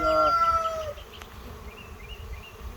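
Honey bees buzzing around an open six-deep, ten-frame hive during a beekeeping inspection, a steady close insect hum with a brief louder tonal burst at the start and faint outdoor background.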